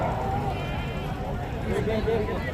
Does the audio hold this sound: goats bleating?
yes